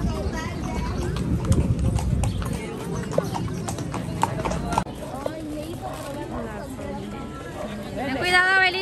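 Horse hooves clip-clop in a steady walking rhythm, close by, under nearby chatter and voices, with a brief whinny-like sound near the end.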